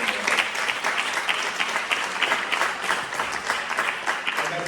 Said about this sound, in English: I would like us all to applaud to the people on the back, to the interpreters and all the technical stuff